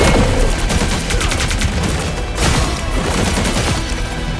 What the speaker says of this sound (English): His right click fires a huge energy beam with no ammo that runs on an energy meter, like Phoenix's flight skill.